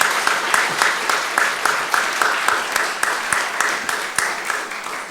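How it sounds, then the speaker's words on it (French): An audience applauds at a talk on a democratic future for Belarus, with clear separate claps at a steady rhythm, close and fairly loud throughout. "je pense qu'on peut vous applaudir."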